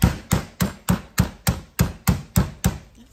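A meat pounder strikes meat covered with paper, eleven sharp, evenly spaced thuds about a third of a second apart, close and loud, each ending in a brief dull ring, with no talking.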